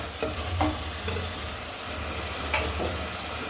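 Crushed spices and ground pepper sautéing in a pan for Kerala-style rasam, a steady close sizzle with a few sharper stirring scrapes and no voices.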